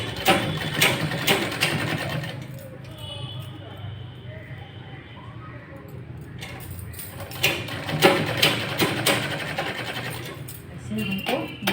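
A sewing machine stitches a lined blouse in rapid bursts of mechanical whirring and clatter, pausing in between, with a person talking alongside.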